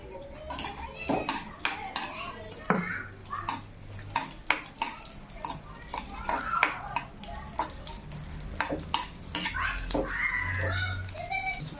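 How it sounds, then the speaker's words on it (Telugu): Raisins frying in oil in a pan while making bread halwa, with a spoon or spatula repeatedly clinking and scraping against the metal over a low sizzle. "కిస్మిస్ కూడా వేపుకుంటున్నాను ఫ్రెండ్స్"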